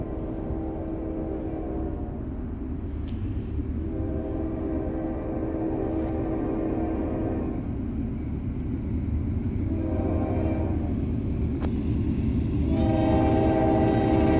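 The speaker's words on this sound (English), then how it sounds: "I believe this train went into Norfolk Southern Elkhart Yard" Freight train moving near Norfolk Southern's Elkhart yard, a steady rumble of wagons and engine close by while the locomotive horn sounds in several long blasts, ending louder.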